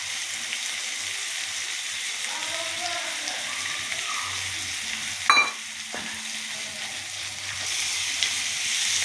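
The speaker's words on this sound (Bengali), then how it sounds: "এবার চিকেনটা দিয়ে দিলাম" Chicken marinated in black pepper, salt and Kashmiri chilli sizzles in a pan, a steady moderate frying hiss with a sharp clatter of a utensil midway and a faint voice in the background.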